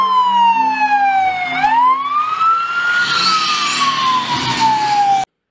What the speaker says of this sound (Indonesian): Dan lihat ada mobil emergency.